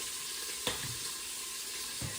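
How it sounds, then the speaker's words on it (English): Bacon sizzles steadily in a pan inside a pressure cooker, a soft continuous hiss with a couple of brief clicks and knocks, no voices. "we'll let our bacon start cooking"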